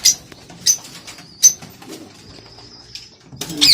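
Pigeons, including Kasuri, Sialkoti and Teddy breeds, in a breeder's loft, giving a few soft coos and brief chirpy calls at about 0.7, 1.5 and 3.6 s over a quiet room background.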